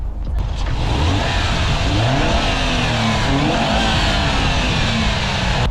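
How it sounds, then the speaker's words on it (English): A Lotus Emira sports car engine roars and revs continuously to redline at high pitch, loud and close, holding near the top of its range throughout. "just let me redline it first"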